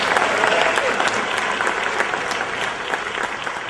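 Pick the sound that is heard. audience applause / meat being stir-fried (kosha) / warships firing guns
audience applause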